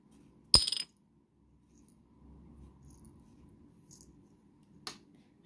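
A small box of mini candy canes is opened, a sharp crinkling crack, then faint handling rustles and a couple of small light clicks, quiet and close.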